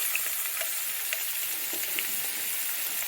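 Carrots and curry leaves sauté in a pan for a wheat-flour breakfast dish, giving a steady soft sizzle with a few faint stirring taps, heard alone throughout.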